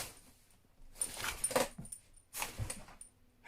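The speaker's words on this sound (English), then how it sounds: "The dog just nearly fell off the bed." A dog on a bed gives soft, close whimpers and rustling snuffles in a few short bursts, fairly faint, with no talking.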